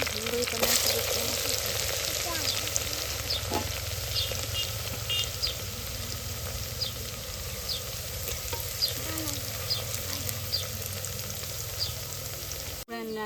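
Green chillies and onion fry in hot oil for a gunda shaak with lasoda flowers, a loud, steady sizzle with occasional stirring scrapes and crackles running throughout, no voices.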